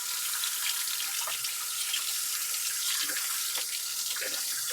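Water pours steadily from a tap into a sink, a close continuous hiss and splash with occasional gurgles and small knocks, no voices over it.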